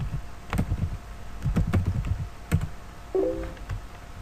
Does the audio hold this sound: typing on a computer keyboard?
yes